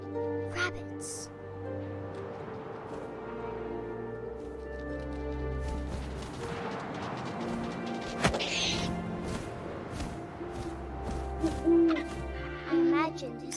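An owl hoots in the video game What Remains of Edith Finch, a few soft hoots over wind-like ambience with scattered thumps and clicks, while a voice narrates throughout.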